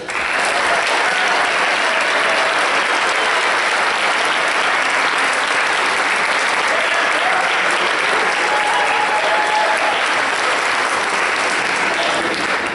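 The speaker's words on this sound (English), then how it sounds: "Let's give one more round of applause for the Xavier University." An audience at the 2017 Project SEARCH Cincinnati graduation claps, a thick, continuous wash of applause holding steady and loud for over twelve seconds.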